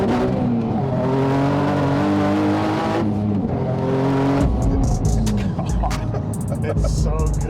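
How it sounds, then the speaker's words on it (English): A 600 wheel horsepower car accelerating hard in second gear, its engine rising loudly and steadily, then shifting with a brief dip before pulling again, heard close and continuous throughout. "We're gonna do a second gear rip."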